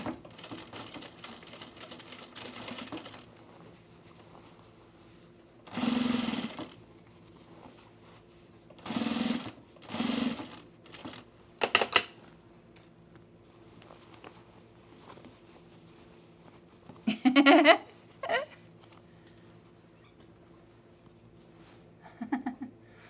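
Sewing machine stitching the side seam of pants in several separate short bursts of rapid needle chatter, close and fairly loud, with quiet pauses between runs.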